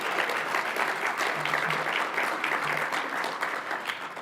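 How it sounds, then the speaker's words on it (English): An audience at an MLK breakfast event applauds in a dense, sustained burst of clapping that stays loud and steady for several seconds, with faint voices underneath. "round of applause"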